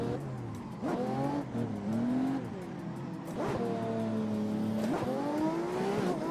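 A drift Chevrolet Omega fitted with a swapped Lamborghini engine revs hard in repeated rising and falling bursts, close and loud, with a brief tire squeal and no talking.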